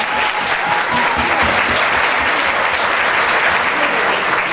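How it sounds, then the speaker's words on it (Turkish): Sustained standing ovation from a concert audience after a choir performance, dense steady clapping filling the whole stretch at close range and fairly loud, with no talk over it. "Ayakta alkışlar."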